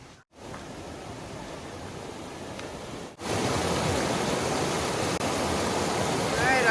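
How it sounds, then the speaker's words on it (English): Water rushes in a stream along the Colorado Trail, a steady broadband hiss that briefly cuts out and returns louder and nearer, continuing alone without talk. "You can hear water rushing."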